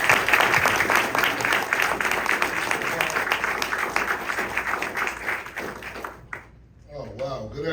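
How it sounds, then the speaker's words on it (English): A large audience claps steadily at a civic jobs-hub launch event in Philadelphia, dense and sustained applause that fades out near the end before a voice begins speaking. "Give him a round of applause"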